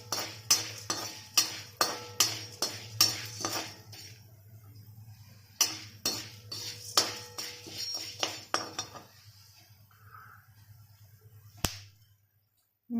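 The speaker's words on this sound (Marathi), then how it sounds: "त्यामध्ये जाईल आता जे मिरे ते पण छान तळून घेऊया." Black peppercorns roasting in a pan for homemade garam masala: repeated sharp metallic clinks and scrapes of a spoon stirring against the pan, in two bursts, with a low hum underneath before things go quiet.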